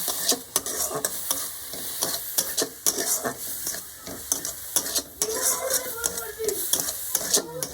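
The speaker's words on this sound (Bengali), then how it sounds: "পেঁয়াজ কুচিটাকে দিয়ে আমি বাটারের সঙ্গে খুব ভালোভাবে নেড়ে নেবো" Chopped onion fries in butter as a spatula stirs it, with rapid repeated scraping strokes over a constant close sizzle.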